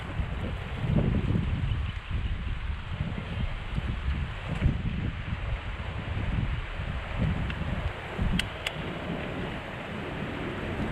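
Steady, rough wind buffets the microphone with gusty low rumbles throughout, loud and continuous with no voices.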